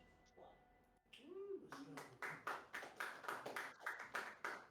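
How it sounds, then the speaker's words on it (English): A small studio audience claps during a livestreamed speedrunning event, a run of quick hand claps following a short spoken exchange, moderately close and somewhat thin, with talk mixed in. "we have a small audience here, so you got some clapping as well."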